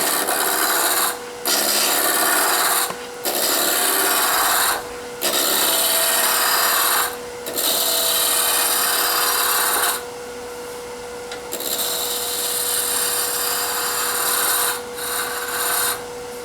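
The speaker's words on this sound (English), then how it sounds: "So first thing you do is use the spindle roughing gouge." Wood spins on a lathe under a spindle roughing gouge, a loud rough rasping cut in repeated bursts broken by short pauses, over a steady motor hum, with a quieter, smoother stretch near the end.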